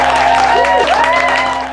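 Crowd at a youth music school back-to-school night cheering and clapping, loud and close, with tonal sounds and sweeping pitch glides woven through the clapping before it eases near the end.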